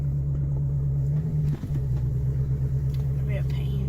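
A 2002 Ford Explorer losing power with the throttle floored, its engine droning as a low, steady, strained rumble heard from inside the cab, with a voice talking over it.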